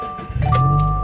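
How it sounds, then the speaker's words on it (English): A key jangling as it goes into the ignition of a 2017 Subaru WRX Premium, then the engine cranking and catching into a low, steady rumble, heard close up inside the car. "So you just put the key in the slot."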